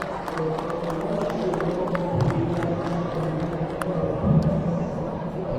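A dense crowd applauds steadily at an all-breeds dog show ring, clapping blended with general murmuring and chatter in a large indoor hall.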